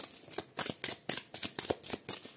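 An oracle card deck (Souffle d'ange) is shuffled by hand up close, a quick run of about a dozen crisp riffling bursts in an uneven rhythm, no talking.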